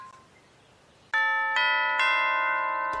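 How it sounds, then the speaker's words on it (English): Bright metallic orchestral chimes ring out in three separate strikes, each tone sustaining and overlapping the last in a clear, resonant shimmer. "Quaver, this is the coolest instrument of all. It's a chime."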